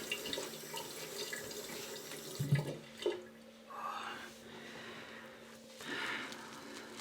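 Water running from a bathroom tap while the face is wetted before a shave: soft splashing and trickling at moderate volume, with brief sloshes and hand splashes around the middle, no talk.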